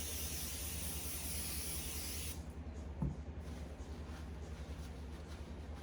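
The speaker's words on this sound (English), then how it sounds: "take my second mold and spray it as well with Pam" A steady hiss of Pam cooking spray sprayed into a chocolate mold lasts about two seconds, then cuts off, leaving quieter background noise with a small knock.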